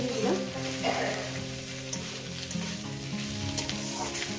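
Rohu fish belly pieces fry in a pan, a close steady crackling sizzle with a faint tonal hum beneath and a few small stirring knocks, no voices heard.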